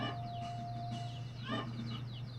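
Young chickens cluck and chirp in short, scattered calls over a steady low hum, with a thin continuous tone running through the first half.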